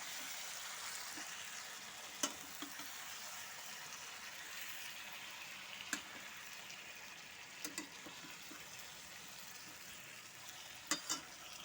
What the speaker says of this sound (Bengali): এবার এগুলো দিয়ে আমি সুন্দর করে একটু নেড়ে নেব, যাতে খুব ভালো করে মশলাগুলো যাতে সব মাংসের সাথে যাতে খুব সুন্দর করে যাতে মিশে যায়।